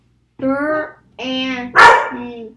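A dog gives a few close, loud barks with a whimpering, yipping edge, in short separate bursts with quiet gaps between them.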